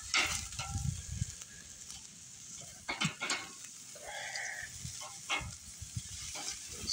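Meat sizzles and crackles on an outdoor BBQ grill on a rainy, windy night, with scraping and clatter from flipping the pieces and occasional bumps over the steady frying hiss.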